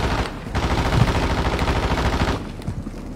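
Rapid automatic gunfire in a video game rattles out in a loud, dense burst lasting about two seconds, with a few scattered shots trailing after, close and without talk.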